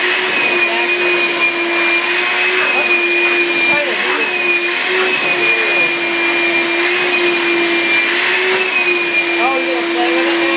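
A vacuum cleaner running loud and close while being used on a dog, a constant steady roar with a whining tone throughout and occasional voices underneath.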